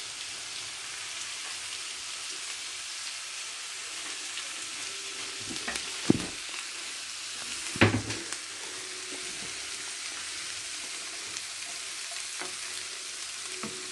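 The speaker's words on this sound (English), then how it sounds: "Turn everything together with a little oil on it" Nigerian fried rice with green pepper being turned in oil in a pan, a steady soft sizzle and crackle with a couple of sharper scrapes of the spoon against the pan partway through.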